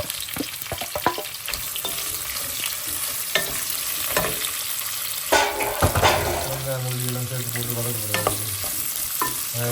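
Onions and garlic frying in a pan for crab curry, making a steady, close sizzle with scattered stirring scrapes, and a voice speaks briefly toward the end.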